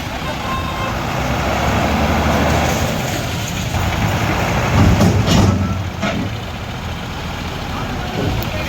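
Tipper lorry with its cabin scraping the body, half a tyre off the edge as it is pulled free on a narrow road, heavy diesel engine droning loud and steady throughout with brief hiss bursts and faint beeps, no talk.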